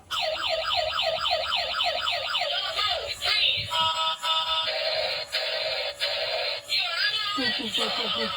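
A toy police car switched on, blaring a wailing, cycling electronic siren followed by a shifting tune and steady tones, loud and close, running continuously.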